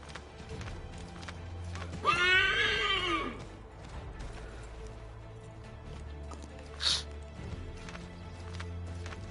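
A horse in the video game Assassin's Creed III Remastered gives one clear whinny, with faint hoof clops and quiet game ambience around it and a brief sharp sound a few seconds later.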